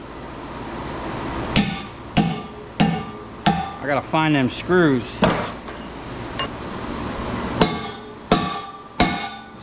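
A hammer beats on a three-phase solar charge controller being broken apart for scrap. The strikes are loud, ringing and metallic, come in an irregular series and bunch into a fast flurry midway. Someone speaks briefly between blows.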